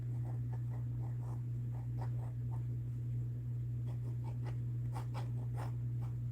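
Pen strokes from a permanent-ink, waterproof sketch pen scratch across paper in short repeated bursts over a steady low electrical hum, fairly close and quiet.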